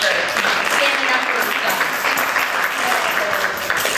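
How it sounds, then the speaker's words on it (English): A congregation at a Purim Shabbat service with a Megillah reading claps for Vashti: loud, continuous, dense applause filling the room without a break. "can we give Vashti a clap for standing up"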